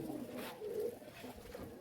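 Rajshahi local Giribaj pigeons cooing nearby, a few soft, drawn-out coos over low background noise.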